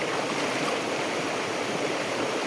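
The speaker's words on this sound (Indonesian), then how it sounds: "Terus sungainya juga sungai bebatuan ya." A rocky river stream flows with a steady, broadband rushing and splashing wash, close and continuous with no voices present.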